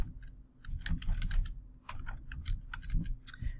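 Fingers type on a computer keyboard in a short, quick run of close clicking keystrokes with a brief pause partway through, with no voices.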